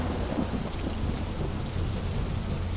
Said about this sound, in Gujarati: ડાંગ જિલ્લામાં ધોધમાર વરસાદ વરસી રહ્યો છે।